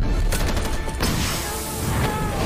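Movie gunfire from The Amazing Spider-Man, a rapid fusillade of loud crackling shots in bursts over a dense, rumbling action soundtrack, heavy and continuous for the whole stretch.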